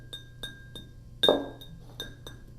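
A Chinese ceramic bonsai pot, probably high-fired and with a maker's chop on the base, is tapped about eight times in a steady rhythm. It gives clear, ringing clinks, and one tap near the middle is louder than the rest.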